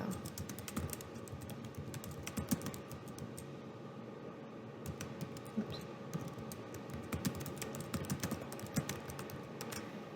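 Close, continuous typing on a computer keyboard while text is retyped in InDesign, with rapid irregular key clicks and a few louder strikes, moderately quiet and with no talking.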